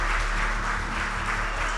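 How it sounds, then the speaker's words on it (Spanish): An audience at an interview with a director gives a short burst of steady applause, a dense wash of clapping from a nearby crowd. "aplauso a Adrián"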